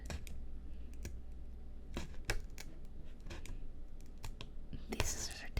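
Small scissors snipping material for tiny miniature furniture, a series of crisp close clicks and cuts at irregular intervals over soft whispered talk.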